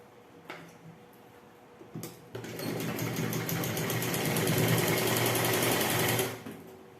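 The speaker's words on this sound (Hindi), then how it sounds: "ये देखिए इस तरीके से हम इस पे सिलाई लगा लेंगे।" A sewing machine stitches the seam of palazzo pants, running in a steady fast whir for several seconds after a few short starts, fairly close and alone without talk.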